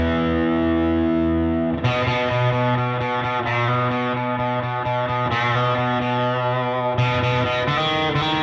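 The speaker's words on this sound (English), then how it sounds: "I love using the slapback and then turning off the reverb." Distorted electric guitar played through a slapback echo with reverb turned off, heavy chords and riffs with short doubled repeats, loud and close with no talking.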